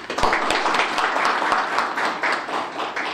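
Applause rises at a National Assembly forum on the K-Bio Lab Central as a science deputy mayor of Daejeon is introduced, a moderate burst of clapping from a seated audience with a few louder individual claps standing out.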